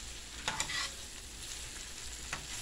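Ackee and saltfish fry in a pan, Jamaican style, with a low continuous sizzle and scraping strokes of a spoon stirring through the mixture at intervals, quiet and close, with no one talking.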